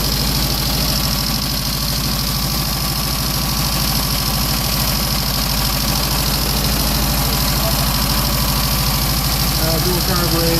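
A dual-carbureted motor idles with a steady, loud, rough rumble that runs unchanged throughout, while a person talks over it.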